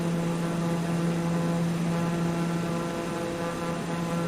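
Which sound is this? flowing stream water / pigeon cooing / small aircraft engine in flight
small aircraft engine in flight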